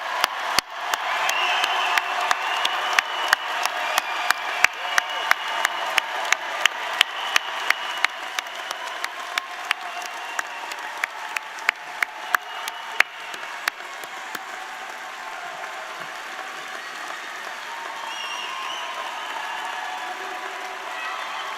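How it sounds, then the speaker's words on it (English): Sustained applause from families and guests for graduates at a JMU 2024 College of Science and Mathematics commencement ceremony, a dense wash of clapping with sharp louder claps punctuating the first half before settling into steady, even crowd applause. "let's give one more round of applause for all of our May 24 graduates."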